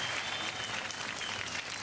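Studio audience applauding a contestant on an Indian TV quiz game show, a steady dense wash of clapping held at even loudness throughout, with no voices over it.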